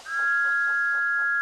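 A steam whistle from Thomas the Tank Engine gives one loud, steady, unbroken blast that holds on a single bright pitch for over a second, close and alone.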